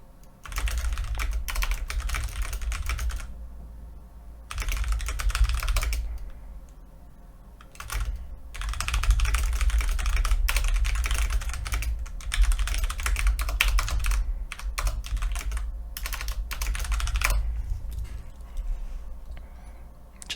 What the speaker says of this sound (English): Just typing to them a bit.